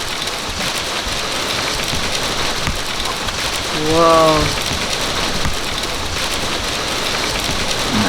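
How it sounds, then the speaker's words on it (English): Heavy rain and hail pound on the roof of a narrowboat during a major storm with lightning, a dense, loud, continuous hiss, while a voice briefly exclaims partway through. "There's been lightning and it's hailing."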